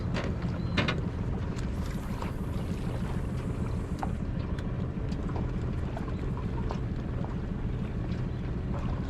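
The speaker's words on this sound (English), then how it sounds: "Bunch of boats that have all rushed over here." Motorboats drone continuously nearby with a steady low rumble, wind buffeting and scattered clanks over the top, no talking.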